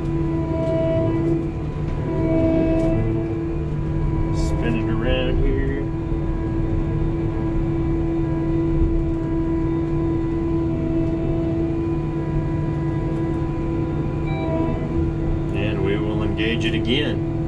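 A Massey Ferguson C2100 tractor idles and turns around in a field, its engine a steady low hum with a constant tonal drone, close, with a few faint clicks and knocks; someone talks over it.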